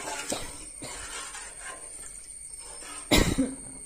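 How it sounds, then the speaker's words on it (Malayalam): A single sharp cough up close near the end, following quiet kitchen background with faint stirring sounds as asafoetida is stirred into a pot of rasam. "ചുമയൊക്കെ വരും"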